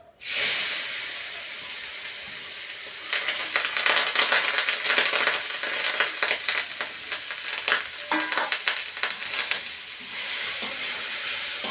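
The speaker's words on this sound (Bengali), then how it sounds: "এই ঘি দিয়ে দিয়ে সেই ঘি দিয়ে এই গাজর ভালো করে ভেজে নিতে হবে" Marinated carrots fry in ghee in a pan, a steady loud sizzle and hiss with repeated scraping stir strokes running throughout, close up and without talk.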